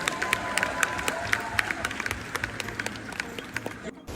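A large crowd at a wedding claps and cheers in a steady, dense roar, with sharp individual claps standing out and voices mixed in throughout.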